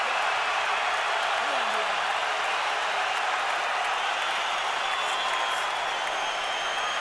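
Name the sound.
boxing fans cheering in an arena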